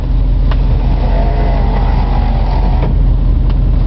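A 1963 Ford Thunderbird engine runs loud and close with a steady low rumble, the throttle raised slightly, with faint clicks over the constant drone.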